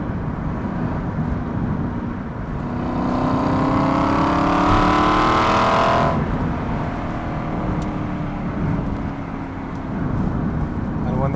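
An Aston Martin Vantage accelerates hard in third gear, its engine note climbing to a loud, rising roar for a few seconds and then easing back, heard from inside the car under a voice.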